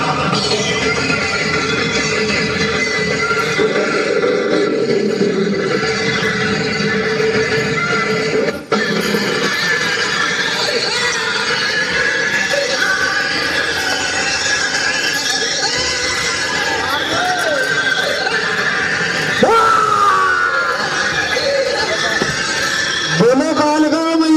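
A horse neighs during a Mata jagran devotional stage show, its whinny rising out of loud, continuous music and voices.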